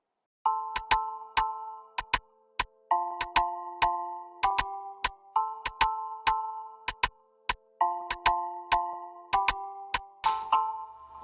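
Afro beat percussion layer of sharp, clicky hits in a syncopated pattern over a looping bell-like melody, clean and up close, cycling four times before a brief swish at the end.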